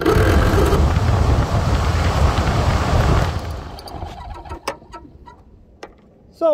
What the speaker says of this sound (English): by just cleaning that guy out, we got our blower motor working